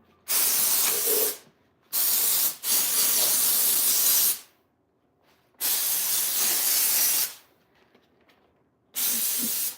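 Four bursts of hissing water spray on a tower garden to clear aphids, each lasting one to two seconds, separated by short pauses; close and loud with no talking.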